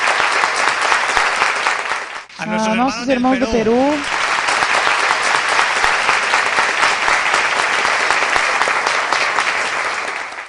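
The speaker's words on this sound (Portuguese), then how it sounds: "Demos a eles um aplauso muito grande." Church congregation applauding visiting brothers from abroad, loud sustained clapping that fills the hall, broken briefly early on by a voice over a microphone before the applause continues strongly.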